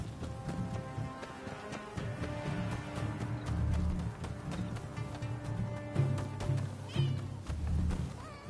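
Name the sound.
cat meowing in video game Rise of the Ronin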